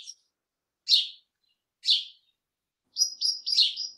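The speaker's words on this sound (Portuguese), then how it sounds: "Temos, por exemplo, o som do pardal." A sparrow chirps clearly and close, giving a few evenly spaced high, bright calls and then a quicker cluster of chirps against total silence.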